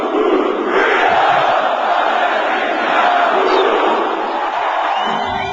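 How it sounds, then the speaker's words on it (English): A large crowd at a motivational seminar chants loudly in unison, a dense roaring wall of voices that holds steady and close for several seconds. "His vision of financial freedom moves the crowd to a chant we hear over and over again."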